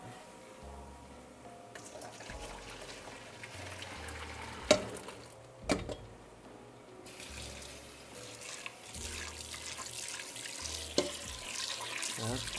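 Spelt grains being rinsed under a running kitchen tap, a steady stream of water splashing in a sink with occasional clunks of handling, close and moderately loud, with a few brief words spoken.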